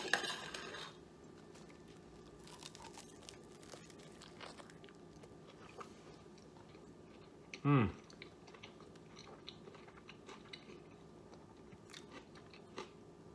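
Someone bites into and chews a portobello mushroom and fire-roasted pepper sandwich with Havarti cheese. The chewing is faint, soft and crunchy, and a short louder voiced murmur rises midway.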